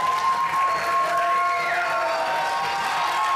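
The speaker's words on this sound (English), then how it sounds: "give all three groups a round of applause that played for you tonight" Crowd applause with some cheering for three school jazz groups at a holiday concert, a sustained wash of clapping in an auditorium with a faint tone lingering underneath.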